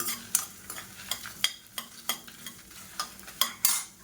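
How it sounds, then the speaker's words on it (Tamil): Coriander seeds and dried red chillies being stirred and fried in oil in a pan, with a soft sizzle under a steady series of scraping, clicking stirs, about a dozen in four seconds, close up and without talk. "இப்போ இதில் பார்த்தீங்கன்னா ஒரு பத்து வரமிளகா சேர்த்துக்கலாம் இதையும் சேர்த்து நல்லா வறுத்துக்கலாம்"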